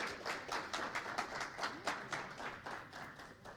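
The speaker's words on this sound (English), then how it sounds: "I'd like to invite us to have a round of applause for our panelists today." An audience claps for panelists after a talk on reading and writing, a fairly faint, thin round of applause with individual claps standing out, fading slightly toward the end.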